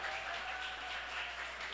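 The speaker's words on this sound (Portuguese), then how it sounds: "Vamos aplaudir" An audience at a Brazilian academic conference claps together, a dense, even wash of applause that holds steady through the short span. It sounds fairly distant and soft, with no clear speech over it.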